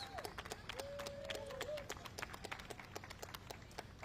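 Audience applause for City of Milwaukee employees at a downtown outdoor event, a dense patter of clapping with a few scattered cheers, fairly distant and moderate in level.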